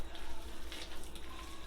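Water poured from a tap or container into a pan of Southern-style chicken and giblet dressing, a continuous close hissing splash with slight fluctuations, fairly quiet.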